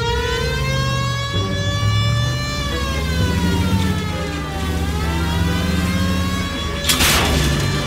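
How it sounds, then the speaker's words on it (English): A loud, close police car siren in the video game L.A. Noire wails continuously with rising and falling pitch over a heavy engine rumble, punctuated by a sharp crash or thud near the end. "Hit the siren."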